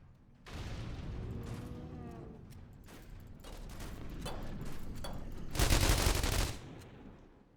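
Heavy gunfire in the zombie game The Walking Trade, with shotgun blasts during a hell raid: a sustained roar of shots building to a loud burst near the end, with no voices.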